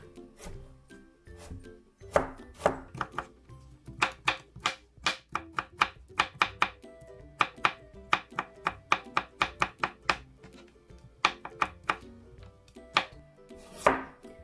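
A knife chops rapidly on a cutting board, sharp close taps coming in quick irregular bursts with brief pauses between runs.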